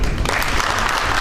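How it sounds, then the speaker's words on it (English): Audience applause honoring Dr. Suman Kotwal, organizing secretary of the Thyrocon event, dense and steady throughout with no voices over it. "deserves all applause."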